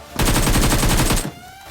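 Gunfire in the mobile battle royale game BGMI, fought in Pochinki: one loud, rapid automatic burst of evenly spaced shots that lasts about a second, then cuts to a quieter background.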